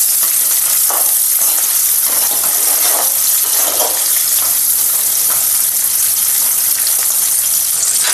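Dry coconut, dry chilies, green chilies and curry leaves frying in hot oil for an avalakki snack, a loud, steady, close sizzle with faint stirring.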